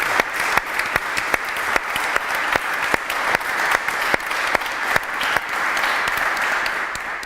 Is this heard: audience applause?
yes